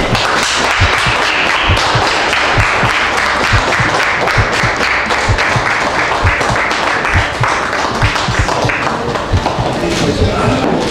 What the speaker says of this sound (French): Des applaudissements pour le marié, s'il vous plaît.